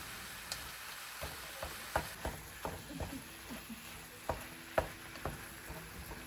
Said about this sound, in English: We're going in with some hamburger and some Italian sausage. We're just going to get that broken down so it can all cook evenly.